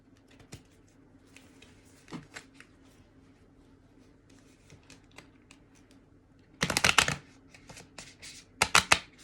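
Tarot cards riffle-shuffled in two quick, crisp bursts after a stretch of quiet, light tapping and handling sounds.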